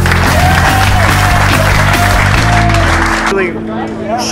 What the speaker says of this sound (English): Give a round of applause for the 2D.